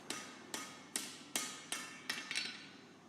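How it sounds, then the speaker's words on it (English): Hot iron scroll tip hammered over the bick of an anvil, about seven sharp ringing blows in a steady rhythm, close and clear with no talk. "then knock the tip further using the bick as a former"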